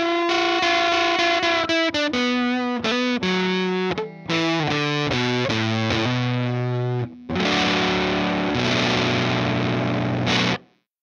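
Electric guitar through a Tone Hungry Fuzz Cream fuzz pedal, bias set halfway, plays a loud, saturated run of single notes that ends in a thick sustained chord, heard alone.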